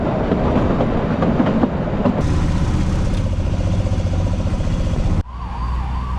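A train from Kalka to Shimla, India, rumbles and clatters along the rails with steady low rolling noise, a brief squealing tone rising partway through before the sound abruptly drops.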